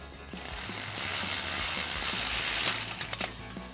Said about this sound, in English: And then we'll tighten that down using our 11mm socket on our ratchet and an 11mm wrench for the back.